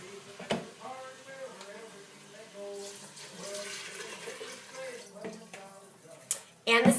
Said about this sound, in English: And then we're going to add 6 cups of water.